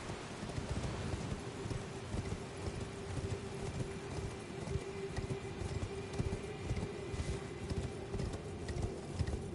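Horse hooves clip-clopping at a steady gallop in Elden Ring, a faint continuous patter with a rain-like wash behind it and no talking.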